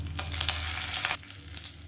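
Loud sizzling and crackling of cumin seeds and curry leaves in hot oil, close up, with a brief stir partway through.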